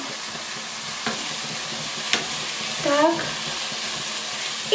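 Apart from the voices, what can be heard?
potatoes being added and stirred in a pot for mushroom soup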